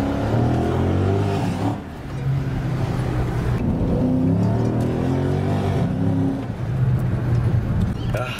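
A 2016 Chrysler 300C SRT8 accelerates hard with a loud, deep engine roar that climbs through revs, briefly drops at a gearshift and climbs again, heard from inside the car.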